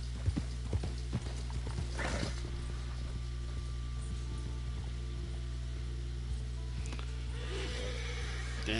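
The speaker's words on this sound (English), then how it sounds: "these are all wild horses" Wild horses in the Red Dead Online video game gallop past with steady clip-clop hoofbeats over a constant low ambient rumble, with a brief whinny and scattered movement noises throughout.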